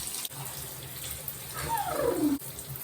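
Tap water runs steadily and softly while hair is rinsed, a broad hiss with a short falling gurgle near the end and faint handling noises.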